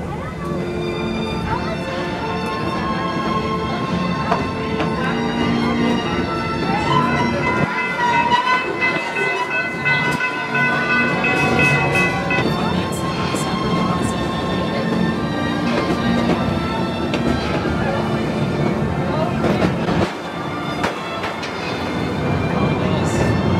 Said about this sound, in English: Going to take a ride on the train.